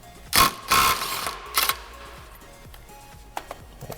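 A socket wrench works a 30mm hex axle nut on the front wheel of an Aprilia RSV4 motorcycle, giving a few sharp metallic clicks and ratcheting bursts followed by softer clinks, close and alone.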